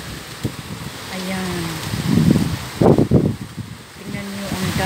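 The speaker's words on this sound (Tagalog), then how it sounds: "Ang lakas po ng hangin namin dito." Strong wind gusts roar steadily by the sea in Dubai on a stormy, rainy day, with surf mixed in under the blustering noise while someone talks close by.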